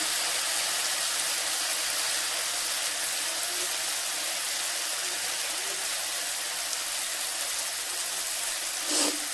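Masala sautéing in oil for egg curry gives a continuous loud hiss and sizzle that holds steady, with a brief sharper burst near the end.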